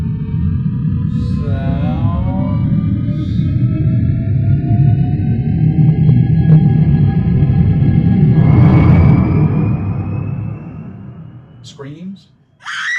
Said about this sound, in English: Spaceship,